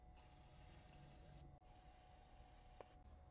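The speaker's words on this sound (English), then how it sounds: "Try to spray some brake parts cleaner in there." Brake parts cleaner sprayed onto Subaru valve cover bolts in two long hissing bursts, with a brief pause between them, close and alone.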